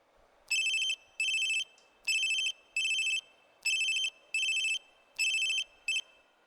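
A telephone ringing in repeated paired bursts, four double rings in steady rhythm with short gaps, clear and close with no talk.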